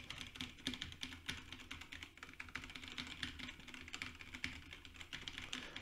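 Steady, rapid typing on a mechanical computer keyboard, picked up by a Behringer XM8500 dynamic microphone through an M-Audio M-Track 2x2 interface; dense, continuous clicking at moderate level with no voice.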